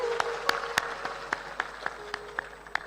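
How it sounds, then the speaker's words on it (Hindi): Sparse, scattered hand claps from a small satsang audience, about a dozen separate sharp claps spread unevenly across a few seconds, fairly close, over a faint steady hum and no talk. "थोड़ा मुस्कुरा के ताली बजाकर बताओ"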